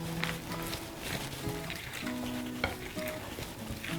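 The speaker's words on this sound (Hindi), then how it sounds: "इसको अच्छे तरीके से हमने मिक्स कर लिया" Creamy fruit chaat is mixed in a bowl with a spoon, making soft, quiet stirring and wet squelching sounds against a faint tonal background.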